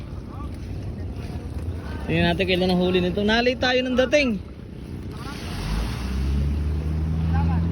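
A motorboat engine drones steadily in the wind, with someone speaking over it midway, then the engine's low rumble grows louder as it approaches.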